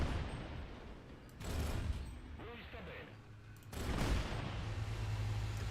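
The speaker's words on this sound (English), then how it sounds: "It doesn't take many bullets from the R3 to detrack a vehicle." Machine gunfire from an R3 vehicle detracks an enemy vehicle in War Thunder, heard as bursts of muffled rapid shots over steady engine rumble and game noise, with a voice speaking faintly in between.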